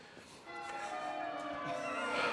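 Church bells ringing out over a York street, a sustained metallic chiming with lingering overtones that rises slightly in loudness during the short stretch, with no voices heard.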